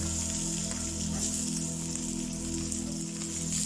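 Sliced onions sizzling in hot oil in a pan while cooking cheera thoran, a steady, dense hiss like light rain that stays even throughout, with a low hum beneath.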